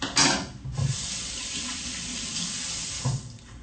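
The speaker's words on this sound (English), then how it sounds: "Now I'm washing my hands real good here" Steady rush of water from a running tap as hands are washed beneath it, close and loud, with a few splashy bursts as the hands move through the stream.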